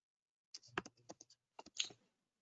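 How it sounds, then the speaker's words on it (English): Typing on a computer keyboard, a short burst of crisp key clicks in two quick runs separated by a brief pause, close and fairly quiet with no voice. "Just type something here."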